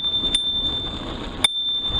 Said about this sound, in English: it's nice that the bike comes with a bell, a fairly sonorous flick bell